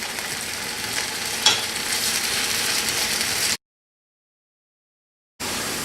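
Potatoes roasting with rosemary and garlic sizzle loudly in a pan while a slotted fish spatula scrapes and turns them, then the sound cuts to silence for about two seconds before the sizzling resumes.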